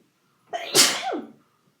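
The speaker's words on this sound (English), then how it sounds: "I'm like sneezing over here by my dog" A single sharp sneeze, close and loud, with a quick intake of breath before the burst, followed by silence.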